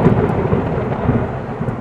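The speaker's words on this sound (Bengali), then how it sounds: "একদিন হঠাৎ করে জঙ্গলে প্রচন্ড বেগে ঝড় শুরু হলো।" A thunderstorm in a cartoon forest gives a short, loud burst of rolling thunder over heavy rain, dense and close.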